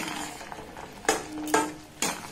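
A spoon stirs sugar-coated kotkoti sweets in a pan over a low flame, with soft continuous scraping broken by three distinct louder scrapes and knocks against the pan, close and even-paced.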